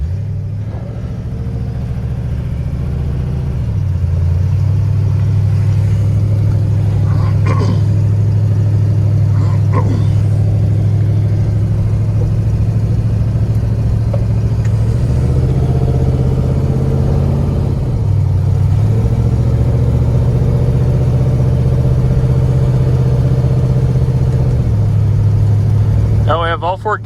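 A BMW E30 M3 engine, the car back on the road after about two years off, hums steadily from inside while driving, rising and dipping as gears change and revs climb, with a voice speaking over it.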